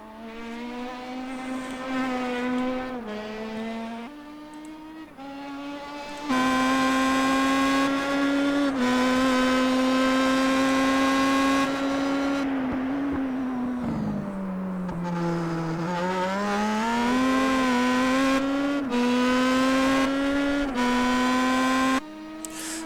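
Star Mazda race car engines screaming around the Zolder circuit in iRacing, a loud, sustained whine that rises through the gears, dips for braking into the chicane and climbs again, with several cars overlapping.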